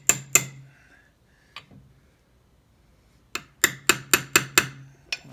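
A hammer striking a socket to tap a seal into a Honda B-series five-speed transmission: two sharp metallic taps, a pause with a faint knock, then a quick run of six evenly spaced close taps, no talk.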